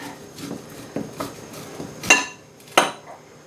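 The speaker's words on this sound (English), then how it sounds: "So let me show you how I take the corn off the cob." A knife slicing fresh corn kernels off the cob into a bowl, a series of short scraping strokes and a few louder knocks against the dish, close and uneven, no speech.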